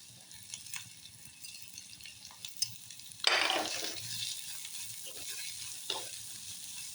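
Chilli goes into a pan of frying onions (salt already added), bringing a sudden loud burst of sizzling that settles into steady crackle, with a few stirring clinks before and after.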